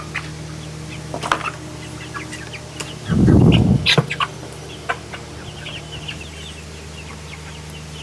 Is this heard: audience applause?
no